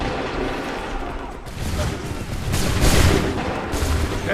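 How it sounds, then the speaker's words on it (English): A massed musket volley crackles and booms across an Assassin's Creed 3 battlefield, rising into a dense, rumbling burst of gunfire amid loud ambient noise. "Shoot!"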